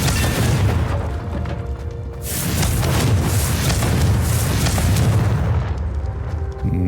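A deep booming blast from the Confringo explosion spell in Hogwarts Legacy rumbles loudly and continuously, swelling into a sustained roaring detonation that fills the scene for several seconds before tapering slightly.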